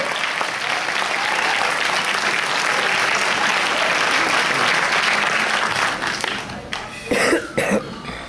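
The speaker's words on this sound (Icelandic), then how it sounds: "Gefum þeim gott klapp, annað sæti í ár!" A crowd at the finals of a music contest applauds the second-place band with sustained, loud clapping, which thins out near the end as a few coughs and scattered claps stand out.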